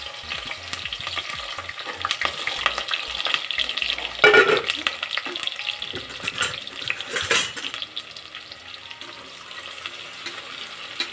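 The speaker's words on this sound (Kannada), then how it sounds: "ಹಸಿರು ಮೆಣಸಿನ್ಕಾಯಿ, ಈರುಳ್ಳಿ ಎರಡನ್ನೂ ಸಹ ಈ ಎಣ್ಣೆ ಮತ್ತು ತುಪ್ಪದಲ್ಲಿ ಹುರ್ಕೋತಾ ಇದ್ದೀನಿ" Green chillies and onions sizzle in hot oil and ghee in a pan, a continuous frying hiss broken by the scrape and clink of a stirring spoon against the metal pot, with no one speaking.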